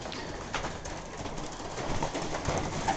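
Young racing pigeons coo inside a loft, soft repeated throaty coos over a close, busy background of fluttering and shuffling, fairly loud and with no talking.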